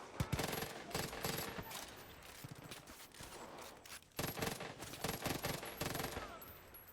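Gunfire in Far Cry 5, with sharp volleys of shots and rapid bursts coming in clustered waves, loud and near, broken by short pauses and no talk.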